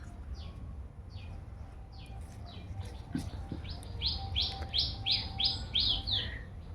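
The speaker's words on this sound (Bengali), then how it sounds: "পাখিগুলো কি সুন্দর ডাকছে" Birds call around a village home in short, sharp, repeated chirps, sparse at first and then a quick run of bright notes, moderately close over a quiet background.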